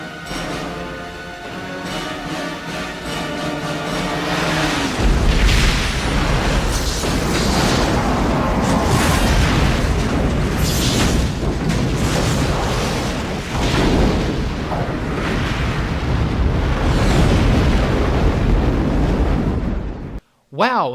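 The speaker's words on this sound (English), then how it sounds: "After the Klingon ship is destroyed, the Enterprise recoils under the damage it's taken." In Star Trek Generations, a photon torpedo blows up a Klingon ship with a loud, deep, rumbling boom that swells and rolls on for many seconds, as voices talk over it.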